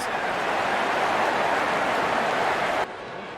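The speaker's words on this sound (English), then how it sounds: "Good innings and gets a grand applause." Crowd applause in the cricket game Real Cricket 24, a dense, loud wash of clapping and cheering that holds steady, then drops sharply to a softer level near the end.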